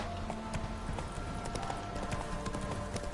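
Horse hooves clip-clop in a steady, even trot in The Witcher 3, with the hoofbeats heard clearly over continuous game background sound.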